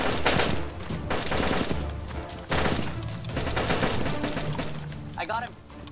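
Gunfire in the survival game DayZ, a rapid run of sharp loud shots in clusters, close and harsh, with a short voice near the end.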